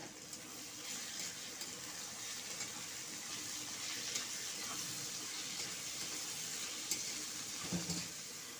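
Three chopped onions fry in mustard oil with salt and whole garam masala in a wok, making a continuous, even sizzling hiss with occasional faint clicks of a stirring spoon, close and unbroken by speech.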